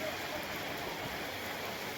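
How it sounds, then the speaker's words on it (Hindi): Heavy rain pours down steadily in Vrindavan, a dense, even hiss filling the whole moment with no pauses, close and constant. "बारिश थोड़ा तो नहीं, बहुत ज़्यादा हो रही है"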